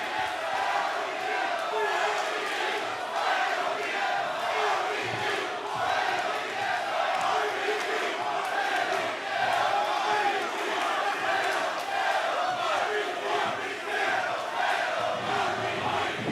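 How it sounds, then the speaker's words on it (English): A wrestling crowd at a Pacific Coast Wrestling show roars and chants in rhythmic waves, loud and sustained across the whole stretch, with shouts and whoops rising from the mass of voices. "Let's listen to this crowd."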